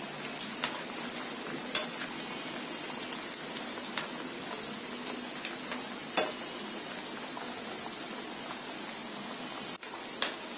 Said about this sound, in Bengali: এখন আমি তেলের মধ্যে নাগেটগুলি ছেড়ে দিচ্ছি।